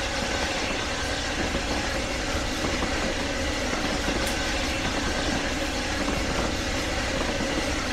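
A Bulleid Q1 steam locomotive on the Somerset and Dorset Joint Railway in Train Simulator powers down, giving a steady low mechanical rumble and hiss that stays even throughout, with no talking.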